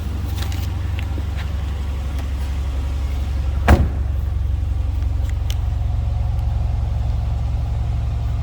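A stock 2013 Dodge Challenger SRT8 with a 6.4 liter Hemi V8 idles from behind the car, a deep, steady, loud rumble broken by one brief sharp clunk midway.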